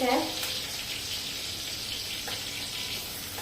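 Green chillies fry in a pan of hot oil for a methi matar malai, giving a steady, close hiss of sizzling that runs evenly throughout.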